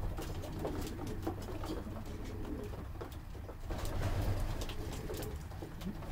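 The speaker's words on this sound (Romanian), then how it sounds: "Porumbeii de la lotul de zbor, masculii, o parte mai sunt încă pe afară." Male racing pigeons from a flight loft coo close by in repeated soft, throaty calls, mixed with light pattering and rustling in the loft, with no speech.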